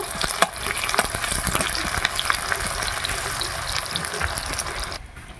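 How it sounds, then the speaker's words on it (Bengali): Chopped onion and a bay leaf fry in hot oil for a rohu fish curry, giving a steady close crackling sizzle that drops away near the end. "তেলের মধ্যে দিয়ে দিচ্ছি একটা তেজপাতা দিয়ে দিচ্ছি পেঁয়াজ কুচি"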